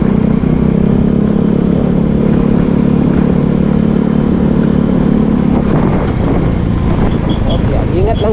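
An unregistered motorcycle rides along a highway: a loud, close, continuous engine drone mixed with wind rush, which loosens and shifts in tone near the end.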